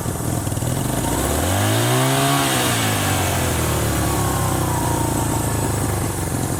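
A 46-year-old Honda motorcycle engine revs up sharply from a rough idle, pitch rising and falling in one strong swell before settling back to a loud steady idle, close by.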